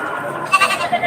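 A goat at a cattle market in Padre Garcia, Batangas gives a short series of loud, close bleats with wavering pitch, over faint background market noise.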